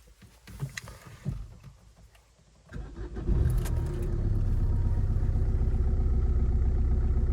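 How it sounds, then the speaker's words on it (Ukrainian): An Opel Combo C with a 1.7 Isuzu diesel engine cranks and starts after some handling noises, then settles into a steady, loud, rumbling diesel idle close by. "Ось чому називають їх тракторці, тому що ну, такий звучок дизеля а, присутствує"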